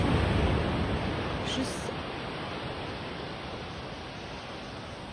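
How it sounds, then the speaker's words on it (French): Ocean waves wash steadily onto the seashore in a dense, continuous roar that stays close and loud throughout, with a brief spoken word near the middle. "ce bruit des vagues qui est juste incroyable"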